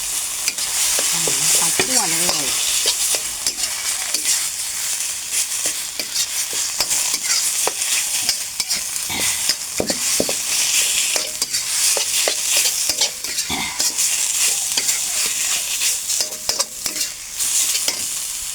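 Pork stir-fried with dried-down curry paste in a pan for a very spicy Thai dish, a steady loud sizzle broken by frequent scraping and clattering stirs, no voices.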